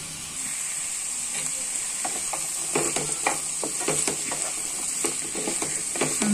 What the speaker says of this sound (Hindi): दो से तीन बार सभी को भूनूंगी। हरी सब्जी है इसलिए ज़्यादा भी नहीं फ्राई करना है।